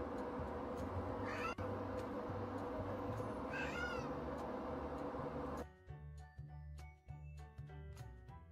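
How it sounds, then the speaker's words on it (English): A cat meows a couple of times, faint and brief, over a steady background hum and light ticking. "Look at my cat."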